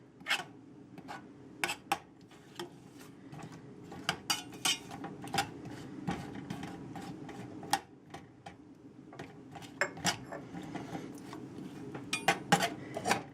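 Halved pitted dates being stirred with ginger and cinnamon in a pan for an Iranian omelette: irregular clicks and clinks of a utensil against the pan over a low simmer, nearby and without speech.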